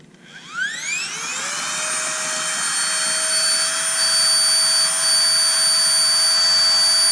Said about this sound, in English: Let's go ahead and use our pump that came with the set.